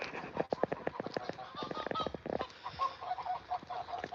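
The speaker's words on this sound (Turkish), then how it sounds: "Tavuklarımız gördüğünüz gibi burada." Chickens cluck in a busy run of short, close calls, with a few brighter squawks mixed in and low background noise.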